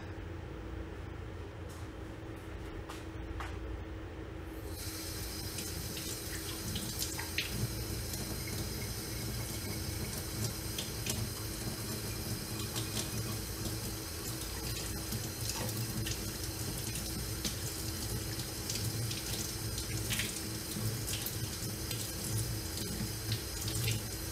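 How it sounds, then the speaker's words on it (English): A kitchen tap runs steadily while a tablespoon measure is rinsed off, a continuous close water hiss that swells stronger after a few seconds and keeps going without talk. "I'm going to wash off the tablespoon measure that I used for the oil and dry it"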